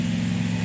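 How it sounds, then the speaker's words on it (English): A lawnmower engine hums steadily somewhere in the background, a low, constant mechanical drone with no change in pitch over a very short moment. "Sorry for the noise from the lawnmower"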